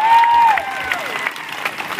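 Audience applause at a live Motown band concert greeting a guitarist and synthesizer player, a close burst of clapping that gradually thins out, with a faint tonal feedback whine sliding down at the start.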